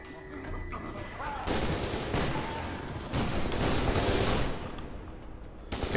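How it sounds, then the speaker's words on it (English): Sustained automatic gunfire in the shooter game F.E.A.R. 2, rapid rattling bursts with blasts and crashes, moderately loud over a game soundtrack, with a brief quieter lull before firing resumes. "I think the machine gun works a little bit better than the shotgun"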